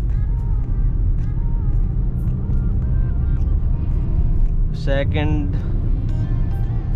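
A 2022 Maruti Brezza top model cruising in third gear at about 60 km/h and 2500 rpm before shifting into fourth, its engine making a loud continuous low drone. Someone talks over it throughout.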